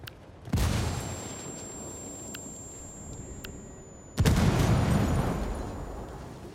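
A frag grenade goes off in Ghost Recon Wildlands near a cocaine stockpile: a sharp blast early on, then a second, heavier explosion with a rumbling tail, separated by quiet ambience with a faint steady tone.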